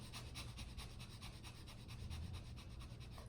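Breath of fire, a rapid nasal breathing exercise: quick, evenly paced sharp exhalations through the nose, close and soft, repeating steadily with no talking.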